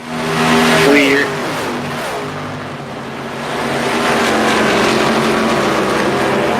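Simulated race truck engines roar in iRacing at Auto Club Speedway during an eSports truck series race: a loud, continuous drone that swells as a pack passes, with a commentator talking over it.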